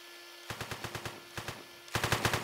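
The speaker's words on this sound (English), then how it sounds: "They're trying to shoot at you through the wall." Gunfire comes through a wall in the heist video game One Armed Robber: loud, rapid bursts of automatic shots in two runs, separated by a short pause.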